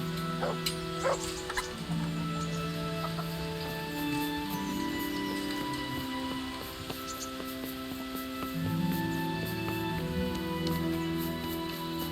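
A dog in the medieval video game Kingdom Come Deliverance gives a few soft barks and whimpers amid quiet game ambience, with no talking.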